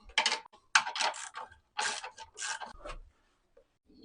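A ratchet fitted with a 13 mm socket loosens the bolts on a water heater hatch, giving quick bursts of dry clicking in short runs separated by brief pauses, close and clear.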